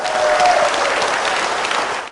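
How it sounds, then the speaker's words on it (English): A studio audience on a talk show applauds after a singer's performance, a loud, steady wash of clapping that holds for about two seconds and then cuts off abruptly. "Please give him another round of applause."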